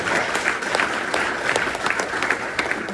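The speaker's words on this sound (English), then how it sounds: "You can clap first, though, if you want." Audience applauding after an economics talk, a dense, steady patter of clapping hands from a room full of people, lasting throughout.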